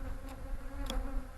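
Honeybees buzz at hives during a brief moment of steady, close humming with a couple of faint sharper passes, no voices.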